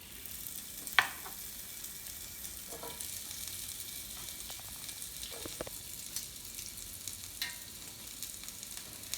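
Onions sizzle and fry in oil in a pan with a steady, soft crackling hiss, broken by a few brief clinks and stirring sounds, fairly quiet and without talking.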